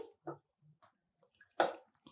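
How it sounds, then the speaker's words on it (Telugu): Water is poured into a pot in a few short, splashy bursts separated by pauses, quiet overall, with one louder gush near the end and no voices. "ఇప్పుడు దీంట్లో కొంచెం వాటర్ తీసుకోండి"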